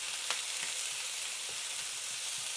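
Quartered tomatoes and onion fry in a pan over medium heat, giving a steady close sizzle with a few soft stirring taps throughout and no voices.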